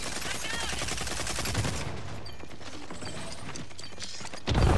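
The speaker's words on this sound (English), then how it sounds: "I'm defusing the bomb." Bomb defusal in the shooter game Rogue Company: a continuous stream of rapid mechanical clicks and rattles, close and busy, running steadily before a louder burst of effects at the end.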